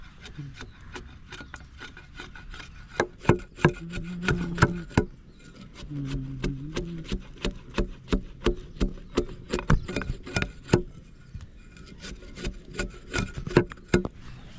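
Bark is scraped off a wooden stick with a blade while carving a homemade slingshot, producing a series of sharp, rhythmic rasping strokes, close and crisp, with a brief pause midway before the scraping resumes.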